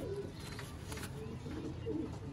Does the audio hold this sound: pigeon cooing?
yes